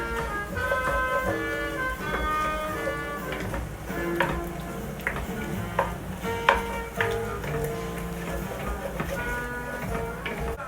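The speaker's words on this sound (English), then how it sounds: "We've been sauteing these potatoes for about 10 minutes." Potatoes and onions sauté in a pan for Lyonnaise potatoes, with soft frying under clattering stirring taps and scrapes scattered throughout, close and moderately quiet, and no talk.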